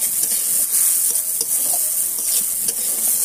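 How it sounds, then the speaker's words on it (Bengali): Dal frying in mustard oil with steady, bright sizzling and a few stirring clicks, close and continuous without voices. "আমি প্রথমে ডালটাকে শুধু সরিষা তেল দিয়েই ভাজবো"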